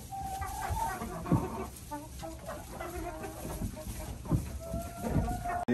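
Chickens on a homestead cluck in short, irregular bursts at close range, with a few louder calls standing out against a steady outdoor background.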